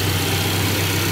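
A 2010 Subaru Legacy's 2.5 liter engine idles steadily at close range, a constant low rumble with an even hum and no other sounds.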